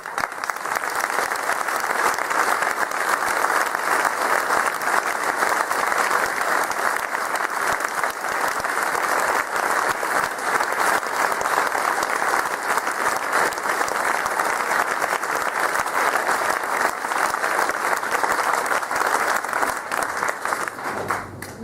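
Long, loud applause from an audience at a Legion of Honour ceremony honouring whistleblowers, dense steady clapping that runs unbroken for over twenty seconds with no speech on top.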